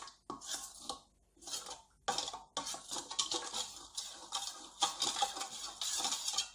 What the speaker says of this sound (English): So we're just going to mix this up and try to get it a bit dissolved.